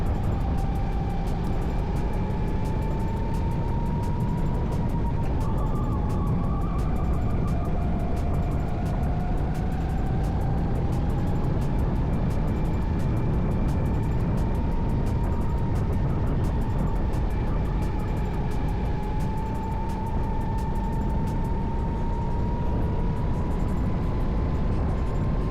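Go-kart engines racing on a track at Dallas Karting Complex, a steady loud droning whine that rises and falls in pitch throughout, with constant wind rush and no speech.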